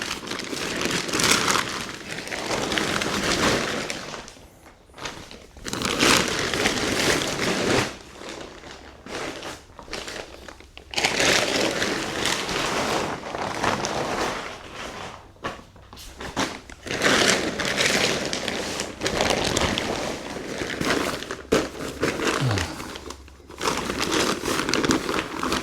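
Heavy technical fabric of a Dometic Santorini FTK 4X8 TC inflatable tent crinkles and rustles up close as it is folded, in long continuous bursts separated by brief pauses.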